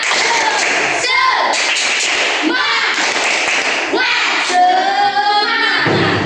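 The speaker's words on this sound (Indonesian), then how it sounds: "Tepuk semangat." Primary schoolchildren repeat their teacher-led clapping chant in the classroom, loud, fast patterned claps and slaps punctuating the children's energetic group chanting at close range.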